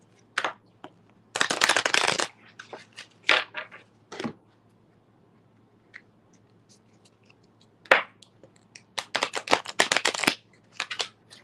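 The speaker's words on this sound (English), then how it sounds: "I'm already shuffling the cards" Tarot cards being shuffled, with bursts of riffling and soft slaps in two main clusters separated by quieter taps and pauses, close and fairly loud with no talking.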